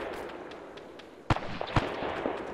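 A grenade explodes in the Arma 3 military game, two sharp, loud blasts about half a second apart, with faint background ambience between them.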